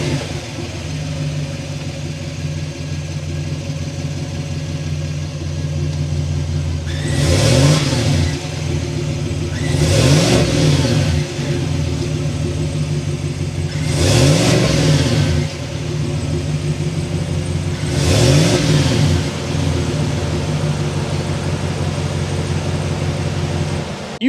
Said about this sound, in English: start it up so you can hear that V8 engine.